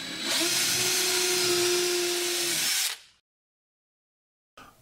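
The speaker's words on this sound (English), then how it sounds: "Drill 2 pilot holes using an 1/8 inch drill bit." A power drill with a 1/8 inch bit drilling pilot holes whirs steadily for about three seconds at a high, even pitch, then stops abruptly, leaving silence before a brief new sound.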